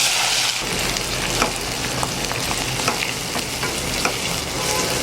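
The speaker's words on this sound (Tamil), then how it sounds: "இப்போ இந்த வெங்காயத்தை 3/4 பாகம் ஆகிற வரைக்கும் நல்லா வதக்கிக்கணும்." Two medium onions, finely chopped, hit hot oil for a prawn curry, giving a loud, dense sizzle with the frequent scrape of a spatula stirring the pan, close up and without talk.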